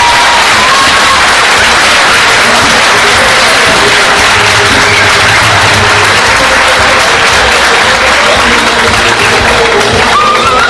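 A loud, dense wall of crowd applause fills a Beşiktaş community gathering, sustained throughout with faint cheering mixed into the clapping.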